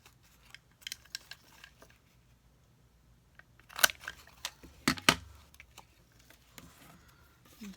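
Scissors cutting card for handmade greeting cards: several crisp snips, first sparse, then a denser cluster of sharp cuts in the middle of the clip, close and fairly quiet, with no talking.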